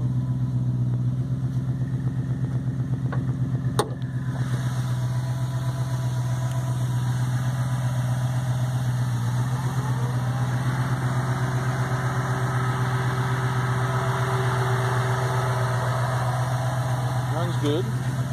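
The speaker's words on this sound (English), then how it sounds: "Look at the engine." Car engine idling steadily at an auction, with a loud, constant low hum and a sharp click early on. People talk throughout.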